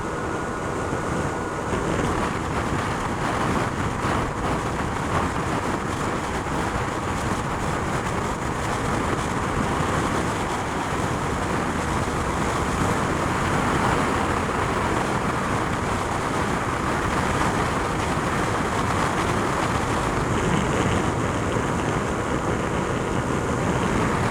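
A Kanuni Seha 150 motorcycle ridden at top speed, its engine running hot, with loud steady wind roar buffeting the rider's microphone throughout and a continuous engine drone beneath.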